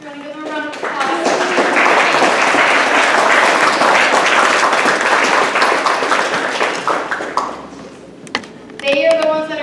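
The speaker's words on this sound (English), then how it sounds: "You want to give them a round of applause?" A room of party guests claps for the editors, a loud, close, dense round of applause lasting several seconds. Voices speak briefly before it begins and again as it tapers off.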